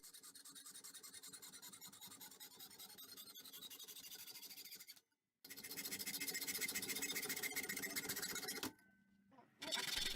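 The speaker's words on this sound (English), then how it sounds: "we're going to take a hacksaw to it and cut it into the little square that we can set right on top of the CPU" A hacksaw cuts through a flat piece of copper, close and loud, with steady rasping strokes, a brief pause near the middle and a short break before the sawing resumes.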